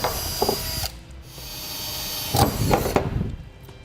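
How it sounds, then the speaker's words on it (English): A power drill with a bit boring holes into a vehicle bumper beam during a transmission cooler install, two short whirring bursts separated by a quieter stretch, close and fairly loud with clicking handling noise. "we'll drill out our holes with a drill bit"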